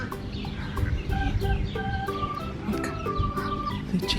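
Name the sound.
chicken clucking at a dairy farm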